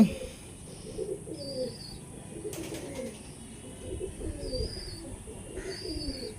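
Andra pigeons cooing in short, repeated low calls at close range, with faint chirps and a brief flutter of movement in the background.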